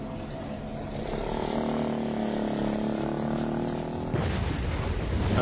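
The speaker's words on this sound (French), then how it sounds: "Les obus tombent juste derrière eux." Artillery shells exploding just behind fleeing civilians near the front during the 1975 fighting around Saigon, heard as a dense, continuous rumble of distant booms. A sharper, louder burst arrives near the end.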